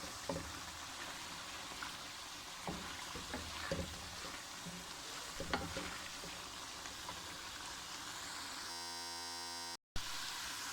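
Keema filling for stuffed karela roasting in a pan: a faint, continuous sizzling hiss with occasional soft stirring clicks, heard alone without any voices.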